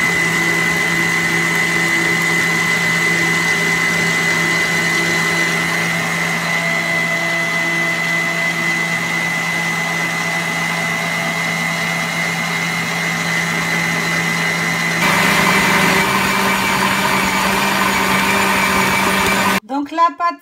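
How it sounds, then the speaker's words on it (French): A stand mixer kneads bread dough made with warm milk and sourdough starter, giving a steady, loud motor hum with a constant whirring drone that shifts slightly in pitch near the end before cutting off. "Mon levain et on va pétrir le tout."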